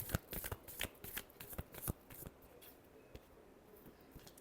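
A deck of tarot cards being shuffled, with quick papery riffling flicks close by, busiest in the first two seconds and then thinning to a few scattered snaps.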